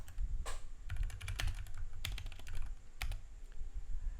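Computer keyboard typing into a search bar, fast irregular bursts of sharp key clicks close up with a few heavier strokes and no speech.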